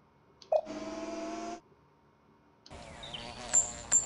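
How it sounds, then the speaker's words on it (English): A mysterious fly-like buzzing in a JumpStart 3rd Grade Adventures game comes in two bursts, a short droning hum followed after a gap by a longer buzzing passage with brief tonal chirps. "Mysterious buzzing sound like flies"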